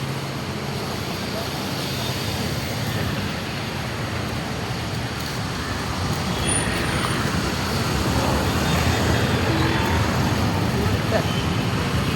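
Road traffic heard while crossing a street, a loud continuous roar of passing cars, buses and trucks with a few voices talking over it.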